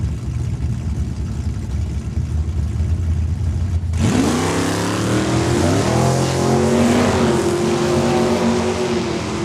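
Drag race cars launch from the start line at Saskatchewan International Raceway, Saskatoon. A steady idle bursts into a loud engine roar that climbs in pitch as the cars accelerate away.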